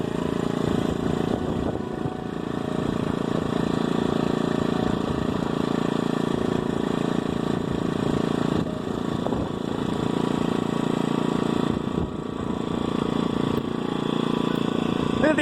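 A small gasoline engine on a motorized bicycle runs steadily and fairly loud at close range, a continuous buzzing drone, on a ride past cattle in rural California.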